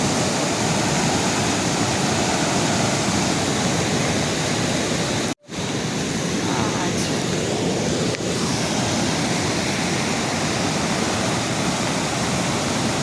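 Floodwaters of a river swollen by record-breaking rain in Sirmour, Himachal, roar in a loud, steady, unbroken rush right beside the fields, broken only by one brief dropout partway through.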